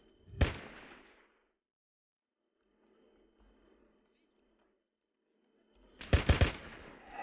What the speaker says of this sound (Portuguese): Tô escutando tiro pra lá.